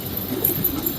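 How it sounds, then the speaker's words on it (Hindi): Pigeons coo softly in a low, rolling murmur, close by and continuous over faint background hiss. "ऐसे कबूतर पीछे घूमते रहते हैं ना"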